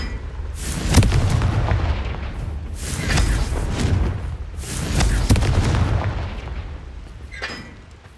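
The Confringo blasting spell in the Hogwarts Legacy video game sets off a series of heavy, booming explosions, three or four loud rolling blasts that swell and fade in turn.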